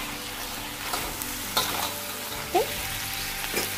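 Blue crabs stir-frying with ginger and garlic in a hot pan, a steady sizzle with a few sharp utensil scrapes and clinks, close and fairly loud, with a brief spoken word over it.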